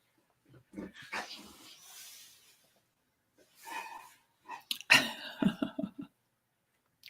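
A dog makes scattered soft vocal noises nearby, short grumbles and whimpering yips in irregular bursts separated by quiet pauses, growing a little louder toward the end.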